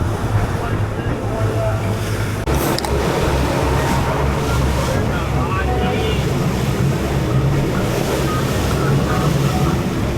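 An 18-foot boat powers across open ocean swells on a long crossing between Kauai and Maui, with a steady loud rumble of hull and engine blended with rushing water and heavy wind buffeting the microphone throughout.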